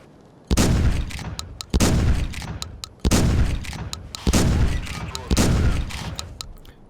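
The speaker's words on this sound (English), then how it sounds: "Yeah, give me the chunky rifle." Rifle shots in the video game Carnivores Fallen Kings, a series of loud booming reports roughly every second or so, each with a long rolling tail, over a steady ambient background.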